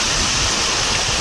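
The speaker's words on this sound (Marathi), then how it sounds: "खूप जास्त असा हवा पाऊस सुरू आहे." Heavy wind and rain at Naneghat make a loud, dense, continuous rushing roar that fills the whole brief moment, with no voices.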